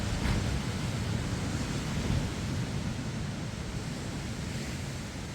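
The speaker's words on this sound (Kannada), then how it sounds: "ಹೆಂಗೆ ಹೊಡಿತಾ ಇದೆ ಅಲೆಗಳು" Sea waves break on the beach at Kundapura in a steady, broad roar of surf that rises slightly at the start and then rolls on evenly, with no voices.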